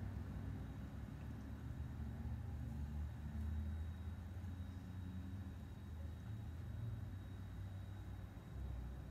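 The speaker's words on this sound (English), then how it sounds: "Do you hear traffic? I do." Distant road traffic hums from somewhere off in the landscape, a faint, steady low rumble of passing cars that stays level throughout with no nearby voices.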